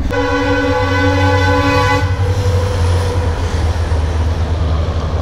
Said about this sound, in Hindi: रेलवे क्रॉसिंग में ऑलरेडी गाड़ी रुके हुए मतलब ट्रेन आने वाला है